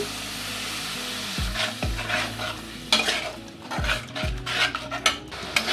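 Spice masala with tomato puree frying in a pan while a spoon stirs it, a crackling sizzle broken by several sharp knocks and scrapes against the pan, close and without talk.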